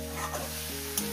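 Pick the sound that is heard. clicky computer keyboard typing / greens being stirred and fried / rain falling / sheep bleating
greens being stirred and fried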